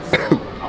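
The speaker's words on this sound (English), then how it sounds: "Y'all heard my cough, though? Y'all heard that little cough?" A short, sharp cough bursts out twice in quick succession, close to the microphone, over a faint background hum.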